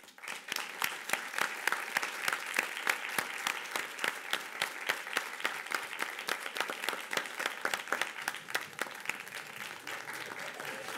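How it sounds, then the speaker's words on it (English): Sustained applause fills a county commissioners' hearing room, many hands clapping with distinct sharp claps standing out, moderately loud and continuous throughout without talk. "That applause was for you, Ray."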